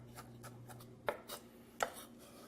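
A knife chopping capers on a board for a scallop and shrimp mixture: a few quiet, close taps with two sharper cuts standing out, no talking.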